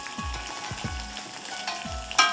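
Carrot and onion pieces sizzle in a pan of tempering, a continuous close frying hiss with several dull low knocks and a sharp metallic scrape at the end, with no voices.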